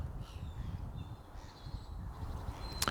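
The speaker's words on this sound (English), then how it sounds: "Seagulls." Gulls call faintly in the distance, a few thin cries drifting over steady outdoor rumble and wind noise, with one sharper call near the end.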